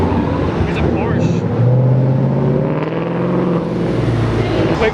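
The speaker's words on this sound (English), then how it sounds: "Here's a Porsche." A Porsche drives past at a cars and coffee meet, its engine rumbling close by and rising in pitch as it goes, with people talking over the sound.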